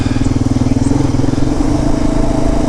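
A KLR 650 motorcycle rides along a road in Sumatra, its engine a steady, loud, close drone with wind noise throughout.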